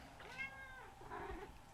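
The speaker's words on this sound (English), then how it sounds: "And there's one of the cats." A house cat in a workshop lets out two faint, drawn-out meows, the second rising after a short pause, heard at a distance with low background noise and no talking.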